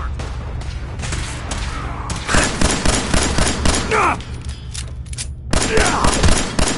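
Heavy gunfire in Fallout 4, rapid volleys of loud close shots in dense bursts with a short lull before more firing, over a low rumbling game background.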